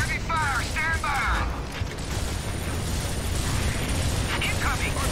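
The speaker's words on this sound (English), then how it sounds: "We are also taking heavy fire." Heavy battle noise from Gears of War Ultimate, with continuous loud rumbling gunfire and explosions and game characters' voices breaking through in places.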